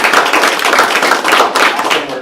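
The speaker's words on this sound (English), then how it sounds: "Let's have a round of applause for all of our students." Close, energetic clapping from a crowd at a school board meeting applauding students, a brisk continuous patter of hand claps with no gaps.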